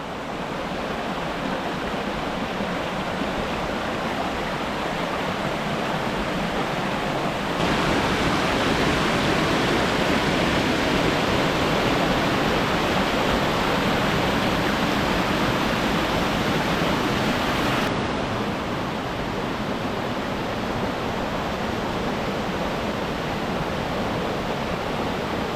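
Steady roar of rushing water at Bear Creek waterfalls in Arkansas, continuous and loud throughout, swelling a little louder through the middle stretch, with no talking.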